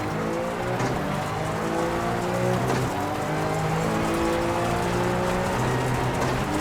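Rally car engine accelerating on gravel in EA Sports WRC 2023: steady loud engine drone rising through gear changes, with rough gravel and tire noise underneath, no talking.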